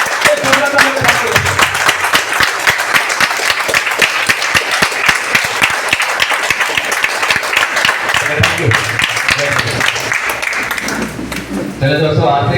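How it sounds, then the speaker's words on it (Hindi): Loud, sustained applause from a large audience at a business seminar, dense clapping that carries on for several seconds before tapering off near the end. "एक जोरदार ताली से स्वागत करते हैं हमारे great leader mister Kamlesh Kumar का"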